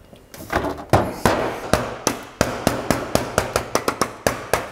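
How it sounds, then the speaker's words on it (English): Roof flashing tapped down onto plain clay roof tiles during a Keylite roof window install, heard as a run of about fifteen sharp, close knocks, sparse at first, then in a quick steady rhythm. "just tap it down into place."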